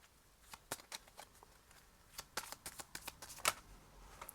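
Playing cards pulled from a deck and shuffled during a tarot reading, sounding as a series of crisp, close riffling flicks and snaps, scattered at first and then coming in quicker bursts, with no talking.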